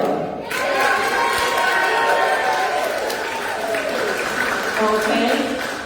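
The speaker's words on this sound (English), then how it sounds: "That's the last time you get to clap." Audience at a 2021 League of Women Voters municipal candidate forum in Monroe Township claps and cheers steadily, a dense, continuous burst of applause filling the room for several seconds.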